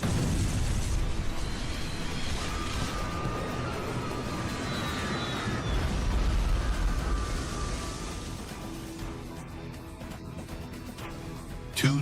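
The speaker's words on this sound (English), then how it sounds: "Two giant Boeing 747s collided with a loud explosion" A dramatized collision of two Boeing 747 jets on a runway, a sustained roaring rumble of explosion and burning with whining engine tones sweeping through it, loud and close, ending in a sharp crack.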